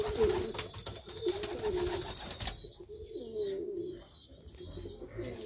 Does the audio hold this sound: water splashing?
no